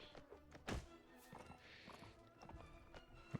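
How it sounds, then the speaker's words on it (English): Horses in the Mount and Blade Warband video game clopping and thudding in a quick uneven rhythm, with a few sharper hoof thumps standing out among fainter steps. "They arrived on horses."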